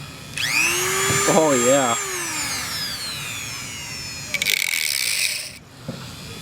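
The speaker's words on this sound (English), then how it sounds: "Cut open the oil filter with a Dremel." A Dremel rotary tool whines as it cuts open a Volvo's oil filter. The pitch rises and falls, with a sharp wavering squeal, then a harsher grinding burst before it stops. People speak briefly around the cutting.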